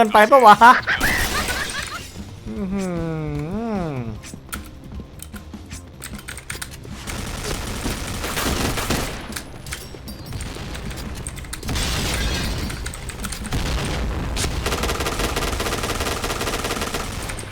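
Rapid gunfire crackles in bursts alongside sharp blasts in the online shooter game Point Blank, with busy, loud action across the clip while players talk over it.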